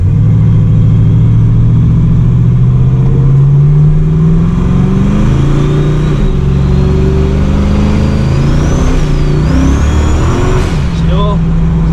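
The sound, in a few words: car with Ford 8.8 limited slip diff accelerating, tires spinning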